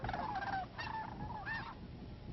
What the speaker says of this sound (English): Geese prefer open areas for feeding